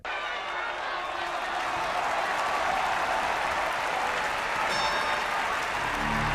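A large audience at a staged warrior contest claps steadily, a dense wash of applause that swells after the first second and holds at an even, fairly loud level to the end, with faint crowd murmur mixed in.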